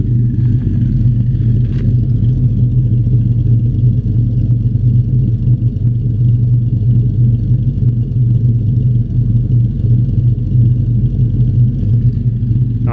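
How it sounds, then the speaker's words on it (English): A 2008 Dodge Charger R/T with off-road mid pipe, long-tube headers and Borla XR1 mufflers idles steadily, a loud, deep, even rumble that continues unbroken throughout with no talking. "Try to get a little bit of idle video here."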